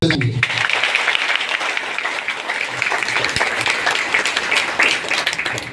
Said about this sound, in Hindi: तो चलिए एक बार आप लोग अपने स्वागत के लिए एक बार जोरदार ताली बजाएंगे।